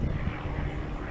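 Small airplane taking off at Aurora Municipal Airport, a steady broadband engine drone held at a constant level throughout, with no talk over it.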